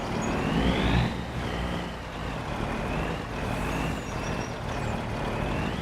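An old semi truck idles on a farm with a rough, steady engine rumble and broad mechanical noise, moderately close and unchanging, with no voices.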